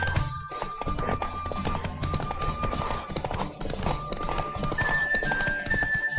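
A horse gallops in The Witcher 3 open-world game, with steady clip-clop hoofbeats running throughout, a brief whinny and game music or tones layered over them, loud and close.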